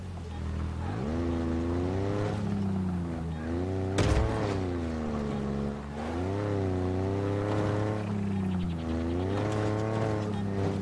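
A Ghost hover vehicle in the Halo Infinite campaign approaching with a loud, steady, rising and falling whine over a deep rumble, a sharp impact near the middle.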